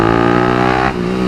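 A Suzuki Satria FU motorcycle fitted with an aftermarket replacement exhaust revs loudly and up close, a steady high-pitched engine drone that dips briefly near the end as the throttle eases off.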